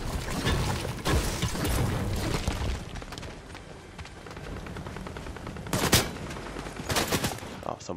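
Video-game gunfire comes at the player in rapid automatic bursts. A heavy volley opens the stretch, a quieter lull follows with scattered distant shots, then sharp loud bursts hit again near the end.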